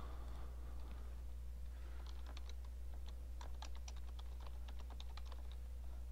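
Keystrokes clatter on a computer keyboard while a Star Wars name is typed into an Illustrator file, a brief burst of close, quick taps that comes in a few uneven runs and then stops.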